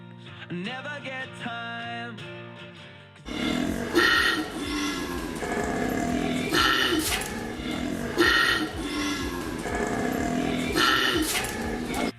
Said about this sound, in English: The lynxes make these sounds to warn other lynxes that is their territory.